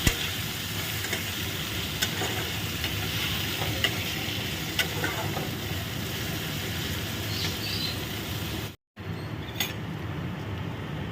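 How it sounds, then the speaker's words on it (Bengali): Onion frying in hot oil with cardamom and cinnamon for Bengali khichuri, a steady close sizzle with occasional stirring clicks, broken by a brief silence near the end. "দিয়ে এটাকে ভালো করে আগে ভেজে নেব।"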